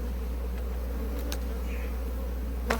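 Honeybees in a hive with their queen give off a steady low hum, close and continuous, with a few faint clicks and a brief knock near the end. No one speaks.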